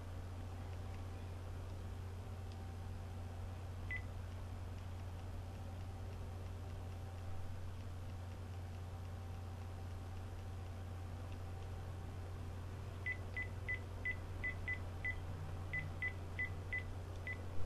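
A phone dials out with a single short tone, a long stretch of low hum, then a quick run of about ten touch-tone beeps near the end, faint and close.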